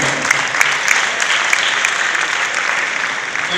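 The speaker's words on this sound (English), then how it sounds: "Please give them a round of applause." A crowd at a student team presentation claps steadily and loudly, a dense continuous patter of applause filling the room without any talking.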